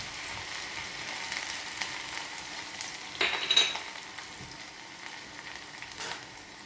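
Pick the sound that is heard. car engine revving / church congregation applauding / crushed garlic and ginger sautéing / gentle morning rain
crushed garlic and ginger sautéing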